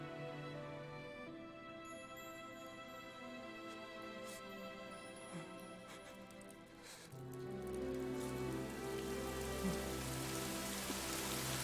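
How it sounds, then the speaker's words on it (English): Rain falls in the Fire Emblem: Three Houses video game as a steady, soft patter over faint background music, growing somewhat heavier partway through, with no talking. "this time when I said it must be raining, it actually is"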